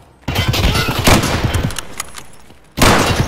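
Loud close gunfire in the Escape from Tarkov video game, a burst of rapid shots trailing off, then another sharp burst near the end.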